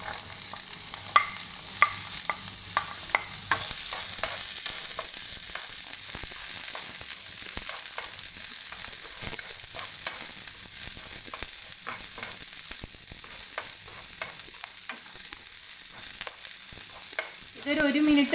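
Garlic, carrots and beans sautéing on high flame: a steady, moderate sizzle runs throughout, punctuated by repeated light clicks and taps from stirring, with a louder burst near the end.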